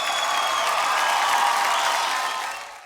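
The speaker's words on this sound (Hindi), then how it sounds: "मेरी जोरदार तालियां हो जाए।" Studio audience clapping on a Hindi-language television comedy show, a short burst of dense applause lasting under three seconds that tapers off at the end.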